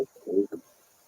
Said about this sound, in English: There's a parrot in there.